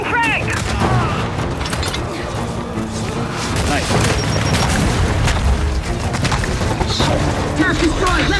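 Gears 5 Horde battle: a frag grenade goes off amid loud gunfire, booms and crashing debris, with voices shouting over the chaos.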